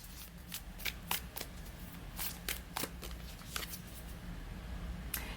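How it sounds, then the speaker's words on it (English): Unicorn oracle cards being shuffled by hand: repeated crisp riffling flutters in irregular bursts, close and fairly soft, with no talk. "and then I'm going to pull a couple of the unicorn cards."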